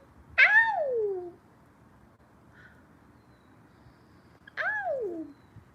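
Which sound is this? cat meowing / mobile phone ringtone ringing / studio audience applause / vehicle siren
cat meowing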